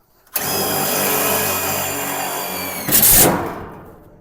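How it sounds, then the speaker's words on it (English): A power drill whirs steadily for several seconds, then ends with a brief, louder ratcheting burst as it unscrews hinges from a custom Colorbond steel gate. The sound is close and continuous, with no talking. "Screw those hinges off."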